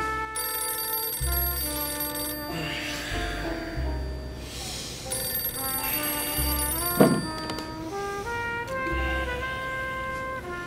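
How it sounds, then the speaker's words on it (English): A telephone bell rings in a few repeated bursts over a bed of sustained musical tones, loud and close, with no talking. "And it all started with a phone call."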